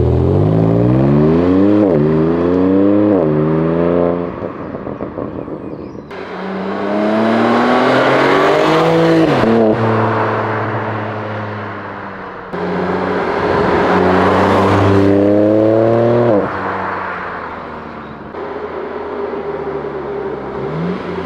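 A BMW M3 Touring fitted with a DD exhaust makes several flybys, its engine rising in pitch through the gears as it accelerates past, loud and near, with roaring swells and fades and no voices.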